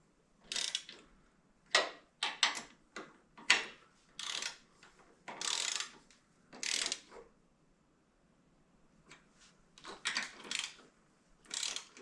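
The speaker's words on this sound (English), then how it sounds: "So I got my small ratchet. We'll get these on and do 11 foot-pounds." A small hand ratchet tightens the intake manifold bolts on a Volkswagen Vanagon engine, giving quiet, close bursts of rapid clicking that start and stop repeatedly with short pauses between strokes.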